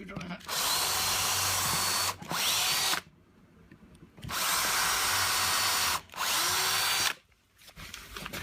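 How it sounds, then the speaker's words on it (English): A power drill whines in long bursts, two extended runs separated by short pauses and quieter gaps, close and loud, boring into wood. "And I'm simply drilling"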